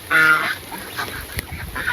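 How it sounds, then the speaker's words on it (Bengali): Domestic ducks at a village pond give a loud, nasal honking call near the start, followed by softer scattered calls and splashy movement close by. "আর দেখেন হাঁসগুলা কি সুন্দর খেলা"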